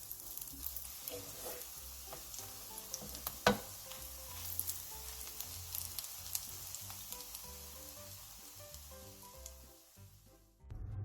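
Korean jeon pancakes topped with chili peppers frying in a pan, a soft continuous sizzle with occasional light clinks and pops, fading out at the end without any talk.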